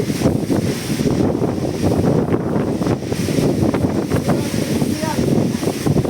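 Strong wind gusts around 51 with five-foot waves at sea, a loud continuous roar of wind buffeting the microphone over surging water, with voices talking throughout.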